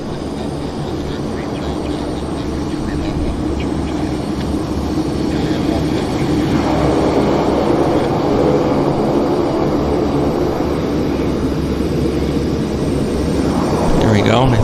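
A Boeing 737 Max airliner rolls at Vancouver airport: a loud, continuous broadband rumble that builds gradually, heard from a distance with no pauses.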